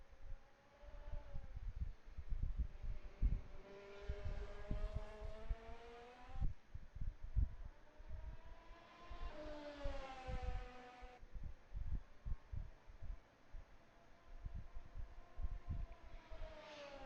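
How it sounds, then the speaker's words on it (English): Race car engine in a sim racing game at Silverstone, loud and alone, with high revs rising through gears, dropping on shifts and braking, then climbing again in two long sweeps. "listen to that sweet, sweet sound of his car"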